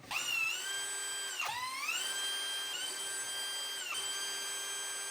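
High-pitched whine of a power drill or driver spinning bolts out of an Akwa Pumps drainage pump, running in steady bursts with three brief dips where the motor slows and restarts, close and fairly loud.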